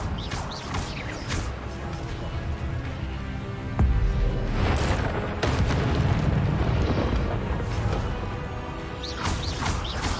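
Spells cast in the Hogwarts Legacy video game produce rumbling, booming magical blasts and crashes that layer into a continuous loud battle din, with heavier surges partway through.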